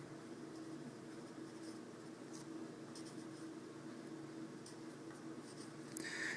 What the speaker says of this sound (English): Let me just write that in there.